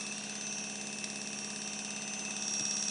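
The OCTO CR-Kromrey generator motor hums steadily with a high whine, getting slightly louder and rising toward the end as RPM increases, with no talk.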